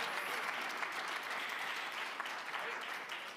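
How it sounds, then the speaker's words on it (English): Audience applause at the Munich Security Conference 2025 as Fiji's Prime Minister is introduced, a dense, even wash of many hands clapping at moderate distance, sustained throughout. "Round of applause for him."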